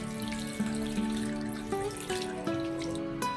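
Tap water runs into a bowl of chicken drumsticks for washing, a soft trickle with a shifting pitch that steps upward as the bowl fills, faint and steady with no talk.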